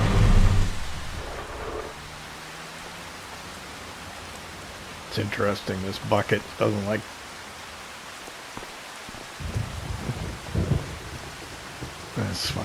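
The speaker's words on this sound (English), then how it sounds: "It's raining, but it's not too bad." Rain and thunder in Farming Simulator 25: a low thunder rumble at the start fades into steady hissing rain that persists under intermittent speech.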